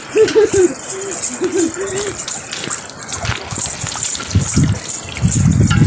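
Water splashes and gushes in short bursts onto a doorstep, with a few vocal sounds early on and louder splashing toward the end.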